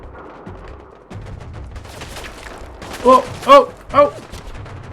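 Several bursts of gunfire in Fallout 4 crack through a busy game soundscape, three loud shots standing out near the end while a voice shouts excitedly over them.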